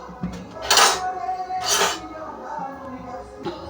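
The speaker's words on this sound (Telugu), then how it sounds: "గ్యాస్ అయితే ఆన్ చేసుకుని బాండి పెట్టుకుందాం" A kadai pan is set down on a gas stove while cooking dried fish with okra, giving two bright metallic clanks about a second apart over a low kitchen background.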